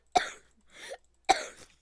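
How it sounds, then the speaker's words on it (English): A sick person coughs twice, sharp close bursts separated by a quieter throat sound, during Roblox Bedwars gameplay. "Sorry, guys. I'm coughing."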